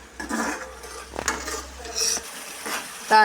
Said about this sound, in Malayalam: നമ്മൾ വെള്ളം ഒഴിച്ച് അതൊന്ന് തിളച്ച് വരുന്നുണ്ട്